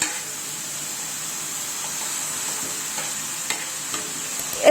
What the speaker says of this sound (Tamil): இப்போ கறிவேப்பிலை, வெங்காயம், தக்காளி, பச்சை மிளகாய் எல்லாமே நல்லா வதங்கணும்.